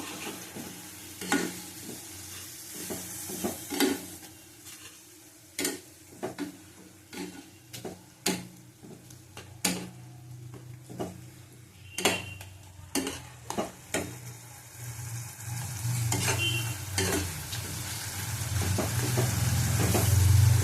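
A turmeric and yellow pea lentil mixture with tomatoes fries in a pan, a steady sizzle punctuated by sharp scraping clicks of a spatula stirring, with the frying growing louder near the end.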